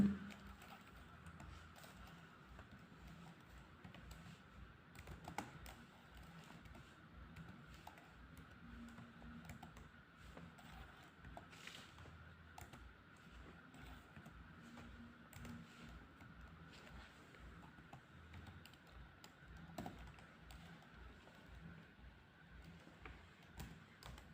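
Someone types on a computer keyboard while filling out an online land development tax application. Faint, steady key clicks continue for about 24 seconds with no voices.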